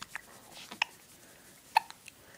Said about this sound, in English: he's trying to hiccup